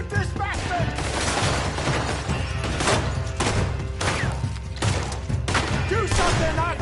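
Gunfire in the video game Red Dead Redemption 2, a dense, loud fusillade of repeated shots and impacts throughout, with shouting voices mixed under the shooting.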